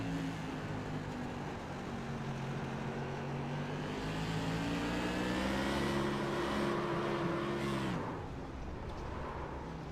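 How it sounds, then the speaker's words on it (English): Onboard engine of an LTP Modified Series race car at Langley Speedway, a sustained engine drone that rises and falls with throttle inputs, pulling steadily before easing off near the end, with no talk over it. "You hear the throttle inputs there."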